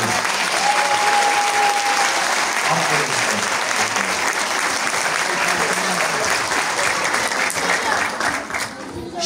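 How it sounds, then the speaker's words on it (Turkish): Parents applauding children at a school chess tournament award ceremony, a dense, sustained round of clapping from a large indoor crowd that thins out near the end. "Şu minik elleri veliler alkışlasın."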